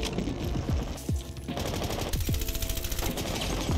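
Rapid automatic gunfire in a shooter video game, dense repeated shots with a few distinct louder cracks, steady and loud throughout.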